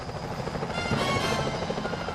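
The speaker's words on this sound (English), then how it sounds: "Those security choppers are bad news." Security helicopters in the video game Sly Cooper: Thieves in Time give a steady, loud rotor drone with a broad whooshing wash that holds without a break for about two seconds, with no talking over it.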